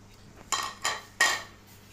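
Four peeled garlic heads being pounded in a mortar, giving three sharp, close knocks in an uneven rhythm over a quiet background.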